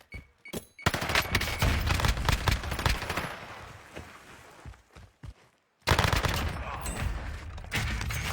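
Rapid video-game gunfire in a ranked shooter match, bursts of loud shots crackling in quick succession, a short lull, then another volley of firing.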